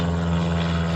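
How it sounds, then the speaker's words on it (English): Airplanes fly overhead near a soybean field at harvest, a loud, steady, droning engine hum that fills the whole moment without a break. "these airplanes"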